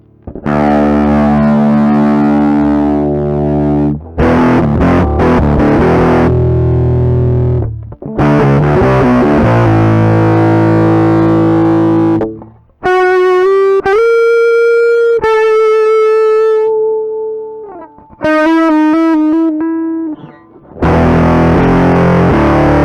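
Electric guitar through a DIY Mostortion clone distortion pedal with drive, bass, mids and treble all at maximum. Loud, heavily saturated chords ring out, then give way to sustained single notes and bends. The playing is continuous with short gaps and no talking.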